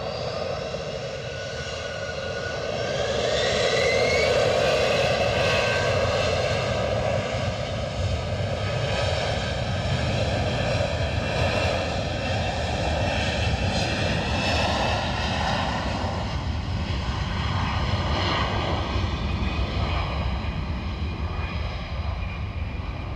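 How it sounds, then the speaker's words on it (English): Boeing 737 jet on approach to Edinburgh Airport, a steady loud engine roar that swells over the first few seconds and then holds, with no talk. "So I've also got 737 from Berlin, says Alexandra. 10 miles out"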